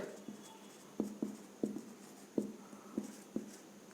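Pen or marker strokes on paper or a board while working out a maths solution for a Class 9 statistics exercise, a series of short scratchy taps and scrapes in an irregular rhythm, close and fairly quiet, with no talking.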